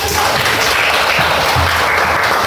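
Applause from a classroom group of teachers and students during a junior high prakarya and food-processing lesson, a steady dense wash of clapping filling the whole moment with low voices murmuring beneath.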